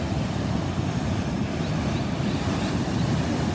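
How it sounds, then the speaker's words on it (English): Ocean waves washing onto a beach shore, a steady loud broadband roar mixed with wind buffeting the microphone, no voices. "you can see the waves coming towards the shore, and then they kind of bounce off the shore and head back and crash with the waves coming in"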